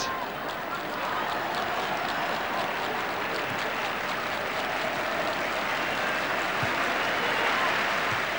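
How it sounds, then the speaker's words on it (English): A large football crowd at an England v Turkey World Cup qualifier applauds steadily, a broad continuous wash of clapping and murmur from a packed stadium, fairly distant and sustained throughout. "Crowd very appreciative."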